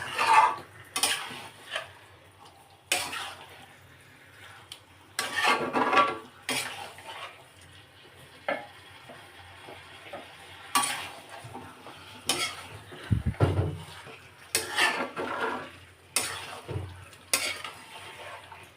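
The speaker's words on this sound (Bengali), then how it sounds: "দেখুন বন্ধুরা, মাংসটা আমি কষছি।" Chicken being stir-fried with ground cumin, coriander and whole garam masala in a pan, a low sizzle under repeated clattering scrapes and knocks of a utensil against the pan, irregular and close, no voices.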